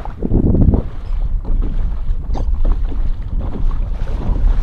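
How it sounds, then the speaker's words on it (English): Strong wind buffets the microphone while inshore kayak fishing near pilings, a steady, close, low roar with gusty surges and no voices. "A bit of a strong wind right now."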